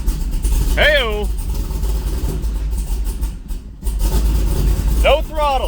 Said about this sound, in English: No throttle, she's idling.